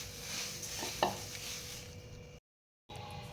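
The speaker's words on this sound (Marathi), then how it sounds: "आवाजावरून तुमच्या लक्षात येत असेल एकदम छान आपण रोस्ट करून घेतलेले" Puffed rice (murmura) roasting in a pan, a dense crackling sizzle with stirring scrapes and a sharper clatter about a third of the way in, then a brief silent gap before the crackle resumes.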